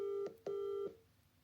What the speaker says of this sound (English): Why does my phone ring like that?